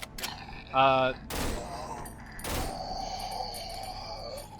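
Burst gunfire from a weapon in the horror video game Cry of Fear, a few sharp short shots with a thud and mechanical clicks, fairly close and moderately loud with no talking.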